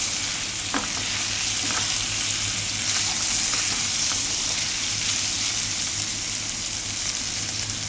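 Tomato and ivy gourd curry sizzles and fries steadily in a pan, with a constant close crackle and a few soft stirring clinks, no voices.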